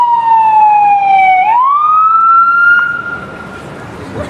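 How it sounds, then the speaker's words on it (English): An emergency vehicle siren on a New York City street, loud and close, one long wailing tone that swoops down and then back up as it passes, fading a little at the end. "So we'll let that siren go by for"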